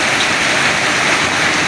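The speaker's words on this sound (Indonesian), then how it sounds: "Posisi malah hujan deras ini teman-teman di Semarang Genuk ya" Heavy rain pours steadily at Genuk market in Semarang, a dense, loud hiss of falling water with no voices, close and continuous throughout.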